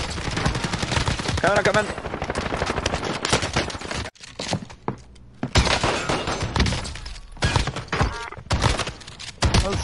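Rapid bursts of automatic gunfire and shattering impacts in a video game shootout, loud and dense with a short lull midway, while players call out over the shots.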